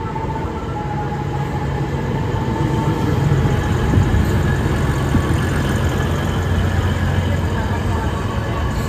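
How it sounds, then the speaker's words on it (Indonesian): A feeder train on the Bandung–Padalarang line rumbles past nearby with a steady, heavy roar and faint rhythmic rattling of wheels, continuous throughout. "Bisa-bisanya kereta kita disusul sama kereta feeder yang jaraknya lebih dekat ya."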